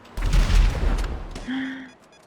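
A loud burst of gunfire booms and rumbles as shots hit a car tire in Grand Theft Auto V Online, followed by a short electronic tone.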